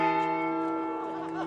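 A large bell rings at the state Capitol, one long sustained tone that fades slowly and sits close and steady.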